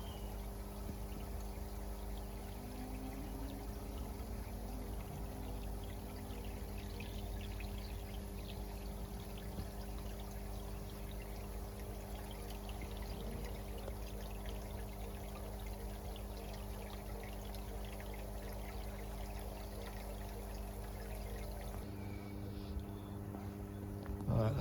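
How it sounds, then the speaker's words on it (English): Water pumped from water butts pours steadily and continuously while the pump hums along beneath it, ending with a brief clunk. "So that's now coming from the water butts."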